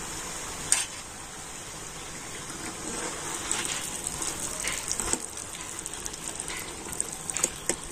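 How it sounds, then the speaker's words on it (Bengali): Homemade flattened-rice kurkure snacks deep-fry in oil, producing a steady bubbling sizzle with occasional crackles and a sharp clink near the start, close and moderately quiet, with no talking. "আর এখন আমি এই কুরকুরেগুলো খুব সুন্দর লাল লাল করে ভেজে নেব।"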